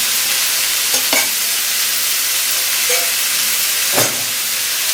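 Ginger frying in hot oil in a pan, giving a continuous even hiss close by, with a few faint clicks and a brief scrape of stirring near the end, no voices.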